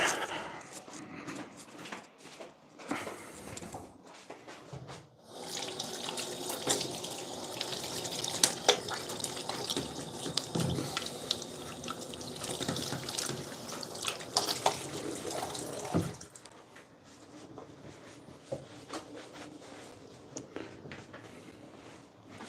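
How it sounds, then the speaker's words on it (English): Tap water runs into a sink during handwashing, a steady close splashing stream for about ten seconds with softer drips and handling noises before and after. "I'm gonna go wash my hands."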